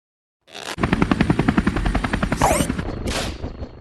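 Helicopter in the Henry Stickmin video game, a loud rapid rotor chop beating steadily close by, with a brief whooshing sweep and a burst of hiss near the end.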